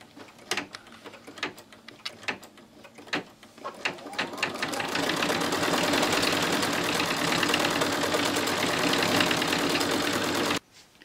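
An embroidery machine stitching black veins into flower petals: a fast, steady mechanical needle chatter that builds from scattered taps into continuous loud whirring, then stops abruptly near the end.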